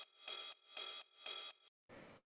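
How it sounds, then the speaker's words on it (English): A dry old-school drum machine ride cymbal sample for lo-fi house strikes three times in a steady rhythm, each hit bright and sustained, followed by a shorter, duller fourth hit after a brief gap. "it's just a simple old school drum machine ride sample"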